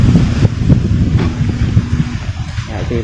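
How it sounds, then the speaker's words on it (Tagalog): Strong wind buffets the microphone with a heavy, rumbling roar that surges and eases, loud and close, with no one speaking. "dito mahangin, napakahangin talaga, grabe, sobrang hangin dito"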